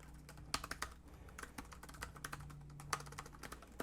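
Fingers type on the keyboard of a RICILAR 14.1-inch laptop, a quick irregular run of close, soft key clicks alone in a quiet room.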